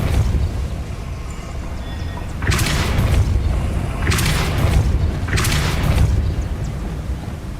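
Depulso spells cast in the Hogwarts Legacy video game land as deep booming blasts, three heavy bursts over a low rumbling backdrop, loud and close with no talking.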